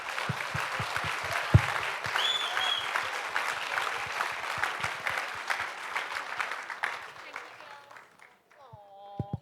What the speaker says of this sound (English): can we have another huge round of applause